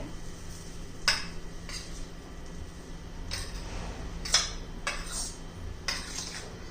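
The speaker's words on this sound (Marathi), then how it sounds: "सगळं व्यवस्थित मिक्स करूया" A spoon mixes potato thecha in a pan, giving about six sharp metallic clinks and scrapes spaced irregularly over a quiet, soft background.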